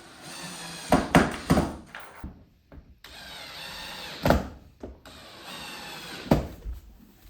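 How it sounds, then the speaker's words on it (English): A power drill whirs in several short bursts and a few longer runs, close by, separated by brief pauses, while assembling an IKEA media unit. "So the instructions say not to use a drill, but I'm using a drill."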